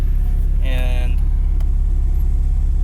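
Fully warmed-up 2006 Porsche Cayman S engine idling with the air conditioning off and the clutch not depressed, a steady low rumble with a faint rhythmic chatter, close to the microphone while a person speaks briefly over it.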